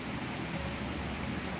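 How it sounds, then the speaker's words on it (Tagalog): Steady rain falling on a street during a cool spell after several dry days, a constant even hiss that fills the whole stretch at a moderate level with no pauses or nearby voices. "Pero at least umulan na"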